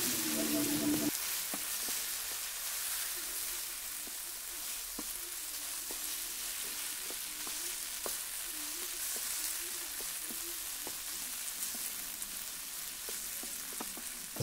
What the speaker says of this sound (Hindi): उसके बाद सॉसेस को अच्छी तरह से मिला लेंगे वेजीज में।